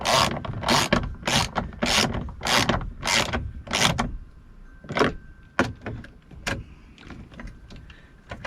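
A ratchet tightens bolts on a car's electric window regulator assembly, giving close, crisp clicking in quick regular bursts, then slower scattered single clicks, with no voices.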